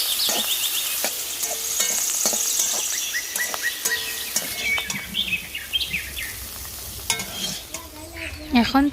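Black cumin, sliced onion and green chilies hit hot oil in the same kadai just used for frying shrimp: a bright sizzle under repeated stirring and scraping clatter, with birds chirping in the background and no speech.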